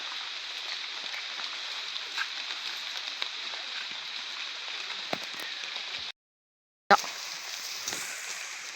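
Steady rain pours down with a constant hiss, broken by a brief moment of silence before the downpour resumes.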